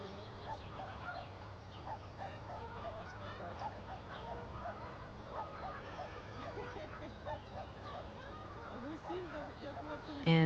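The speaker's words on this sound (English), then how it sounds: "She's a domestic duck." A domestic duck at a bird rescue gives scattered honking quacks among other waterfowl, moderately close, mixed with people talking throughout and a louder burst at the very end.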